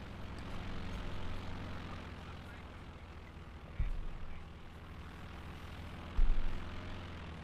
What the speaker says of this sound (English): Aircraft down, aircraft down.